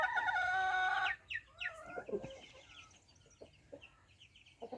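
Chickens in a backyard coop at Lockyer Waters make a loud, nearby crow first, then a run of scattered clucks and squawks that fade to quieter intermittent calls.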